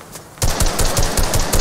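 Rapid automatic gunfire in a video game, a loud burst of evenly spaced shots that starts abruptly and keeps firing steadily to the end.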